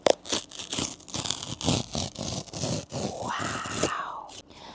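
A mailed parcel being torn and cut open with scissors, with close repeated ripping, crinkling and scraping bursts in an irregular rhythm and a strained vocal sound near the end.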